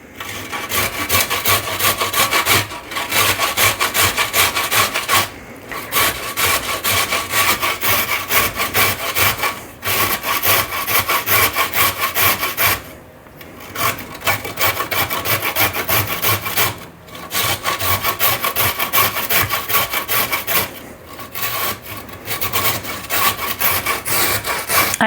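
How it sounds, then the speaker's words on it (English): Zucchini is grated on the fine side of a hand grater in a kitchen, a loud continuous rasping of rapid strokes with brief pauses every few seconds. "I'm going to grate this on the fine side of my grater."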